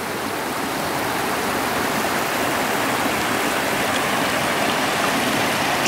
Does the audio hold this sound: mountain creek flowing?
yes